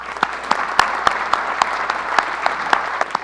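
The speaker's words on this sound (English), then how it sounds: "I want to give her a round of applause again" Steady applause from an audience at a school district State of Education event in 2015, dense clapping with sharp individual claps standing out, sustained and moderately loud throughout.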